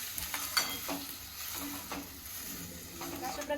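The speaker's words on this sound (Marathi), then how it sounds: "आणि याला चांगलं थोडा वेळ परतून घ्यायचं आहे आपल्याला" Grated raw mango sautés in ghee for a sweet mango preserve, giving a steady close sizzle with repeated spoon scrapes and stirring knocks throughout and no voices.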